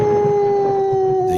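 Loud dog howl sound effect used as a segment intro, a single sustained tonal wail held steady for over a second before breaking off, close and alone.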